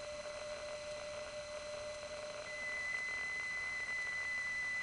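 Telephone network tone from a #1 Crossbar central office in the Grand Concourse, the Bronx, a steady whistling tone whose lower pitch gives way to a higher 1700 hertz component midway, continuous and fairly faint, no voices.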